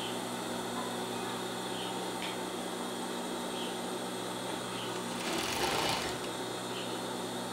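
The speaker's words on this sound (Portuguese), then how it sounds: "Cuidado com a overlock, com a overlock ela corta, tá?" Overlock sewing machine stitching a fleece dog sweatshirt, a continuous close whirring hum with a faint rhythmic chatter and a brief swell near the end, no talking.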